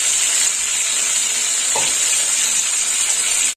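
A loud, steady hiss of 300 grams of bhola fish sizzling in hot oil continues without pause, then cuts off abruptly.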